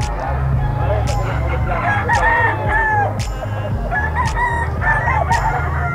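Gamecock roosters of quality bloodlines at Bocaue crowing repeatedly, several overlapping cock-a-doodle-doo calls near and at a distance, over a steady low hum and faint background voices.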